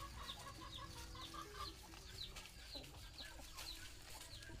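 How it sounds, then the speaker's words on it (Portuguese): Hens with chicks on a rural smallholding, giving soft repeated clucks and thin high peeping calls in a steady rhythm, fairly quiet and close, with no talking. "as galinhas com pintinha"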